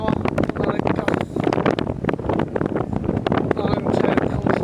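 Strong gusting wind buffets the microphone on a very windy night, a loud rumbling roar that surges and dips throughout while speech-like sounds and rustling come and go beneath it.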